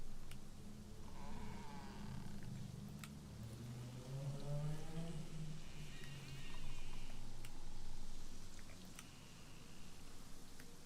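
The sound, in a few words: chicken clucking in the video game DayZ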